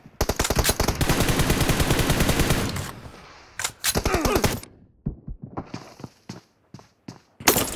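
M416 assault rifle fire in a video game: rapid automatic bursts, a long sustained volley followed by shorter bursts and scattered single shots, loud and close.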